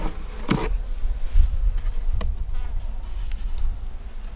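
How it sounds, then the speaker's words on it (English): Bees hum steadily inside a small nuc hive with a yellow queen, eggs, brood and stores. The close, continuous buzz is broken by a few sharp knocks and clicks. "They got bees."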